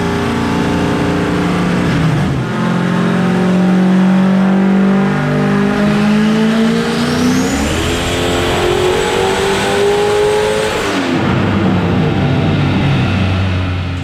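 A turbocharged Ford 363 stroker V8 revs hard on a dyno at high boost, climbing steadily in pitch, holding a high whine before cutting off abruptly, loud and close.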